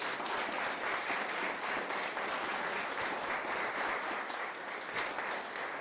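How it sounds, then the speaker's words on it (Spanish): Steady, dense applause from a church congregation during a Spanish-language service, sustained at even loudness throughout with no talking over it. "Dale ese aplauso al Rey, por favor."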